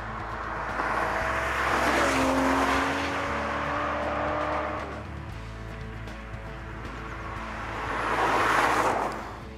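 Aston Martin V12 Vantage with its 6-litre, 510-horsepower V12 roars past loudly, swelling in and fading, then a second engine surge builds near the end.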